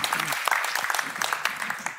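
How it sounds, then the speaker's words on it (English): Crowd clapping fills the short moment, a dense patter of hands with a few cheers, fairly close. "Give him a big round of applause."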